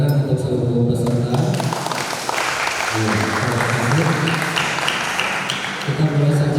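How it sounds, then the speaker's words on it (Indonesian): A hall audience at a Quran comprehension competition in Majalengka applauds all the participants, a continuous wash of clapping for several seconds, with a voice on a microphone heard at the start and end. "Tepuk tangan untuk seluruh peserta."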